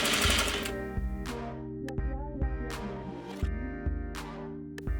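A sewing machine sews a trouser pocket bag lining to the pocket stay along a straight edge, loud close bursts of rapid stitching separated by short pauses and clunks.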